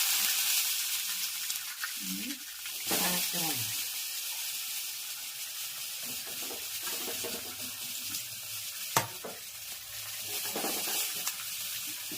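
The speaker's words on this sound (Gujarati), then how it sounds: "સરસ મજાના પાત્રા વઘાર શરૂ થઈ ગયો છે, આપ જોઈ શકો છો. જીરું અને સફેદ તલ" Cumin and white sesame seeds sizzle in hot oil for a patra tempering, a steady hiss with scattered clinks and stirring scrapes, faint and partly under a speaking voice.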